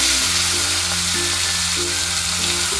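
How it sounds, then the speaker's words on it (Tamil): Asafoetida powder, black pepper and curry leaves, with cashews, fry in hot oil for ven pongal, giving a steady close sizzle throughout with a faint recurring hum beneath and no speech. "கொஞ்சம் முந்திரிங்க இதெல்லாம் கொஞ்சம் நல்லா கொஞ்சம் ஃப்ரை பண்ணி போட்டுக்கலாங்க"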